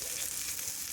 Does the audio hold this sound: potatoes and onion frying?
yes